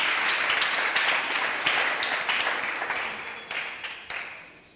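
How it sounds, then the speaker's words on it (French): A church congregation applauds to acclaim the Lord: dense, sustained clapping from a crowd that swells early and then gradually thins and fades over several seconds, with no talk over it. "Est-ce qu'on peut acclamer le Seigneur?"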